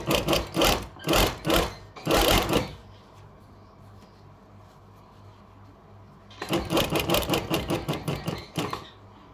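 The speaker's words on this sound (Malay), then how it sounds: "Okey, kita jahit setapak ya." A sewing machine stitches a trouser pocket in two rapid bursts of loud mechanical chattering, separated by a quiet pause with a faint hum.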